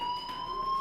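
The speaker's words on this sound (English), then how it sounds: "Hey, do you hear that fire alarm?" A fire alarm in Life is Strange sounds as a steady, piercing electronic tone, held unbroken and fairly loud throughout this brief moment, with no voices.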